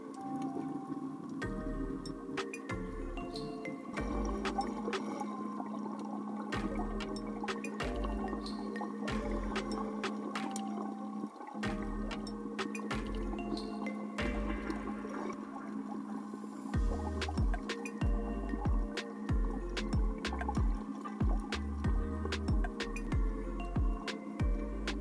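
Water splashes, drips and gurgles as coral frags are set into a reef aquarium, with soft repeated low thumps and trickling over a steady hum, fairly quiet and with no voices.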